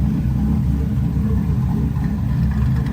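A cammed GMC truck with gutted catalytic converters rumbles loud and close through a new side-exit exhaust, its choppy low idle pulsing unevenly for a few seconds.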